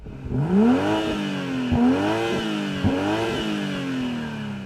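A BMW M340i engine revs hard three times in a row, each rise in pitch snapping back down, with a deep exhaust rumble between.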